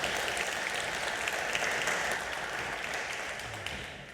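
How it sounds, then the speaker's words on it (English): Dense, steady applause from a conference audience welcoming a startup CEO at a venture awards event in the Ohio Statehouse, sustained throughout and tapering slightly toward the end. "Let's give him a round of applause"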